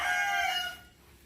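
A chicken lets out a loud, close rooster-style crow with a drawn-out harmonic call that fades into a quiet tail after about a second, no voices present.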